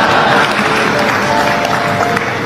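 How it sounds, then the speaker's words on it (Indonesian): Sustained applause from a large crowd, a dense, steady wash of many hands clapping at close range without pause. "itu tepuk tangannya orang banyak"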